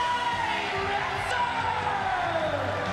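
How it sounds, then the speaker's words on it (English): Arena crowd at a PRIDE 16 mixed martial arts event in Japan, a steady roar of cheering and shouting that fills the space continuously, with a faint voice running over it. "People are standing up, they're cheering."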